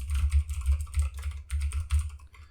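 Fast, uneven keystrokes typing code on a computer keyboard, a close run of crisp clicks in bursts with brief pauses, no speech.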